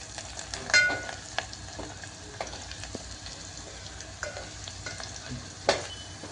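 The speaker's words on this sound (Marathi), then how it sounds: "मिरच्या छानपैकी होऊ द्या नाहीतर त्या कच्च्याच राहतील" Red chillies and garam masala sizzle in hot oil for a dhaba-style dal tadka, a steady close frying hiss with occasional stirring scrapes and clinks.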